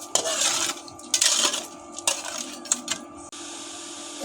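Sugar being stirred in a pot to melt it, metal spoon scraping and clinking against the pot in irregular bursts, close and fairly quiet, with no talk.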